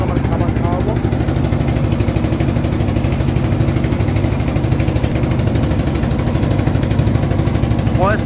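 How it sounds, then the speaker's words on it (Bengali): A boat's motor drones loudly and steadily throughout on a river trip near the Padma Bridge, its low rumble and vibration constant, with a few brief voices audible over it. "মেশিনের খুব আওয়াজ, এই আওয়াজে আসবে না"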